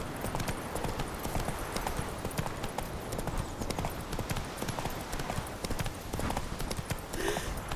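Steady clip-clop of horse hooves from Roach, the player's mount in The Witcher 3, trotting continuously and fairly close, with a brief snort or whinny near the end and a faint voice in the background.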